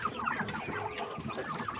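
A male quail of a heavy meat breed calls while standing on a weighing scale, giving a fairly loud, steady stream of short, clucking chirps with no pauses.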